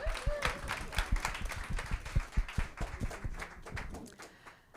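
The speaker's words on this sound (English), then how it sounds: "Let's give this panel a round of applause." An audience at a summit applauds a panel, individual claps distinct and fairly close, the clapping steady before thinning out toward the end.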